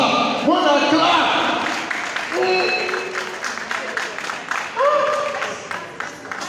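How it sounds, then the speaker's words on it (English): Scattered hand clapping patters under a voice and bright chirping tones, moderately close, with the claps continuing in the background for several seconds. "I wanna clap for her."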